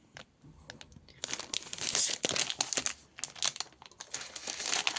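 Plastic wrapper of an A5 Drawing Pro Series sketchbook being torn and crinkled open, close and fairly loud, with a quiet start, then a burst of rustling and irregular crackles continuing to the end.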